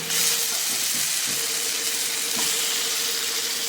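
Potatoes dropped into hot oil in a pan, cooking for a Bengali fish curry, give off a steady, loud, broad sizzle and hiss that holds throughout, with a few faint clinks beneath it.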